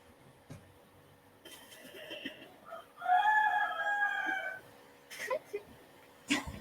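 A rooster crows in an extended, harmonic cock-a-doodle-doo over the quiet background of an online class, preceded by softer clucks and followed by a few short sharp calls.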